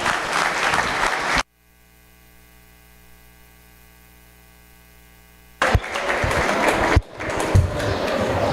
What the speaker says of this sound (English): give all of these exhibitors a round of applause